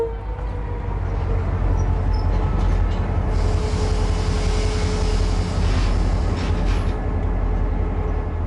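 A train at Saïda station in western Algeria, on a narrow-gauge line, sounds as a continuous loud rumble that fills the whole stretch without letting up.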